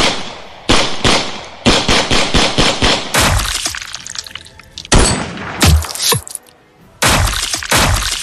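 Gunfire crackles as a sound effect in an action-horror audio drama, with rapid bursts of sharp shots and harsh cracks in irregular clusters, loud and close, separated by brief pauses and with no speech over them.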